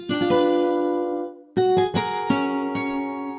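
Plucked guitar notes from a virtual guitar plugin ring out in two phrases, each strum decaying slowly with clear harmonic overtones, played alone with no voices.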